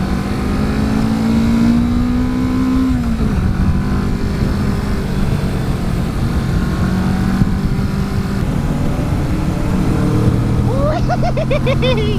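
A 2019 Kawasaki Vulcan S ABS motorcycle with an aftermarket exhaust pulls away and accelerates, its engine note climbing steadily through the gears, with continuous wind rush over the bike throughout.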